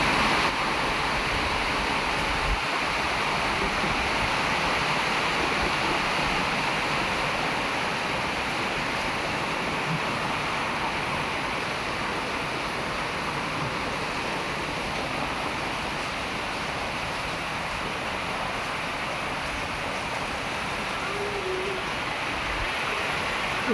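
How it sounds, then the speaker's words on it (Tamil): A constant rushing roar of cyclone floodwater flowing down a road like a river, broad and steady throughout, running past at close range. "ரோடு ஃபுல்லாக ஆறாக தண்ணி ஓடுது."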